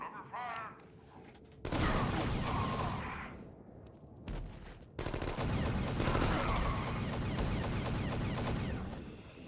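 A light machine gun firing in The Conduit, two long sustained bursts of rapid loud gunfire with a short pause between them and mechanical clatter, close and dominant.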